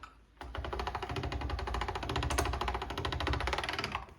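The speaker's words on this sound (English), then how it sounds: "we're going to use the pasta machine to roll this out" A hand-cranked pasta machine's rollers pressing saffron pasta dough, a fast even mechanical rattle that starts abruptly and runs steadily, fairly quiet and close, with no talking.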